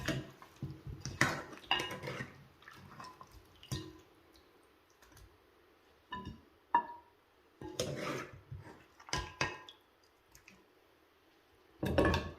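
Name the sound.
stirring and serving food from pot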